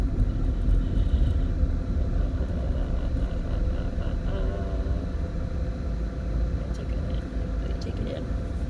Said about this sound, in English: You hear my tire? You hear it?